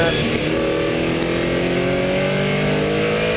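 Race car engine on track at Miller Motorsport Park, a loud, close, continuous roar that rises steadily in pitch as the car pulls through second gear, with a voice talking underneath.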